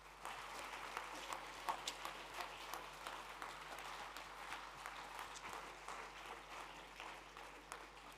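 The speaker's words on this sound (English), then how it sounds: "Big round of applause." Audience applause at the close of a talk at the E.A.T. 2025 event, a steady, fairly faint wash of clapping with a few louder claps standing out, continuing throughout.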